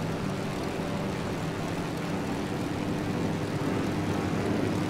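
Steady, loud aircraft engine drone from a propeller plane in Microsoft Flight Simulator 2020, flying from Toronto City Centre toward Niagara Falls, holding an unbroken broadband roar for the whole span with no talk over it.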